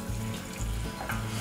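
Butter and flour roux cooking in a pan on the stove, a steady close sizzle with soft stirring scrapes that come in a few slow, regular pulses.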